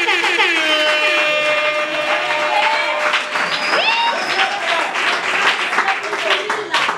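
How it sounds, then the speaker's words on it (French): Applause from wedding guests in a town hall for the bride's father during a civil marriage ceremony, a steady broadband clapping wash lasting throughout, with a voice and some musical tones heard over it. "sous vos applaudissements, veuillez."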